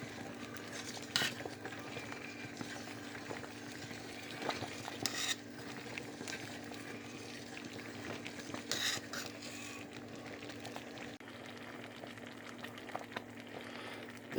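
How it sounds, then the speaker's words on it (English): Soft bubbling and occasional scraping of a spoon stirring thick boiling mulberry jam in a pot, steady and close, with a few sharper clinks. "When you're stirring it, it should continue boiling."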